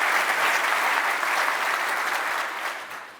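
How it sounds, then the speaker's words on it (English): Audience applause at a live conversation event on AI with NVIDIA CEO Jensen Huang in Denmark: a dense, steady wash of many hands clapping, loud and sustained, then slowly fading over the last second. "I think that needs a round of applause."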